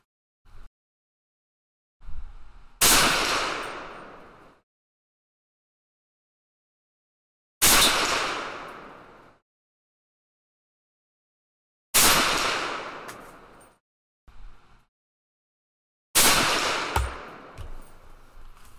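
An SKS rifle firing 7.62x39 handloads while shooting a group: five sharp, loud shots several seconds apart, each with a ringing outdoor echo, plus a few quieter knocks and handling clicks between them.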